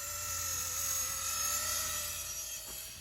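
A radio-controlled model helicopter flies outdoors near trees, its high, steady rotor and engine whine holding at a constant pitch throughout, moderately distant with no talk over it.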